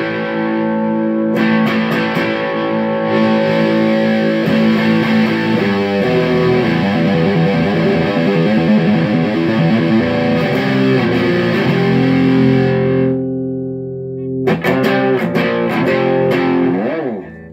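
A Gibson Les Paul Custom played through a BOSS BD-2 overdrive pedal gives a long, loud overdriven passage of sustained chords and riffs, then a short pause and a few more picked notes.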